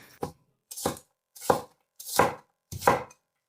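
Five sharp knife chops of an onion on a cutting board, evenly spaced about every half second, close and crisp with nothing else heard.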